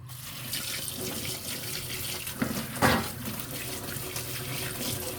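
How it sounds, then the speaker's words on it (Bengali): A kitchen tap runs steadily into a sink while a bitter gourd is rinsed under the stream, with a soft continuous gush and a couple of brief splashes near the middle. "এই যখন করল্লাটি ধুয়ে নেবো"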